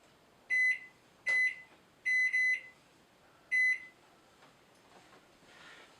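A kitchen oven timer beeps in short, sharp electronic tones, sounding five times with one quick double beep, clear and close in an otherwise quiet room.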